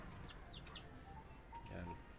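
An older laying hen in a backyard clucks a few times in short, soft bursts over a steady farmyard background hum.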